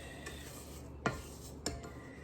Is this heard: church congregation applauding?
no